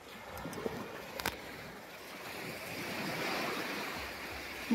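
Sea waves rolling onto the shore of Mousuni Island, a steady broad wash of surf with wind rumbling across the microphone and a couple of faint knocks early on.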